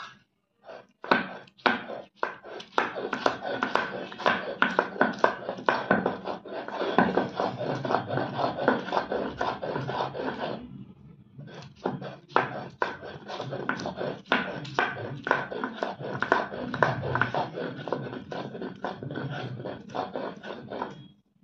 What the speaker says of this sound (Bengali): এখন এই টমেটো কুচিগুলো সবগুলো কিন্তু মিহি করে বেটে নিতে হবে।